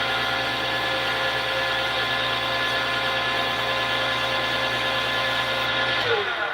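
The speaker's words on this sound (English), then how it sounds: "So pretty much all you're going to do is sand it like a regular pen" An acrylic pen being sanded on a spinning lathe gives a steady, loud, high-pitched whir with a constant drone. It runs unbroken for about six seconds before spinning down at the end.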